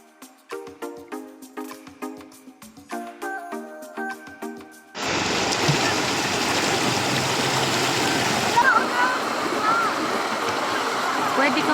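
A river at Tanay, Rizal rushes over rocks in a steady, loud wash that starts abruptly about midway and continues unbroken, with a plucked musical intro before it.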